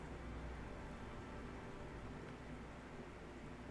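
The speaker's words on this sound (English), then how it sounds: "the rain is so loud" Steady, hissing rain pours down in the Heavy Rain video game, a dense wash of drops that stays even and fairly quiet throughout, with no other sounds rising above it.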